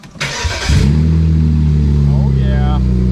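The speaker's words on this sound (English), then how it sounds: "You ready to hear 6 cylinders of fury?" A 2007 BMW 335xi six-cylinder engine with no exhaust cranks and catches, then settles into a loud, steady, deep rumble up close, with people talking briefly over it.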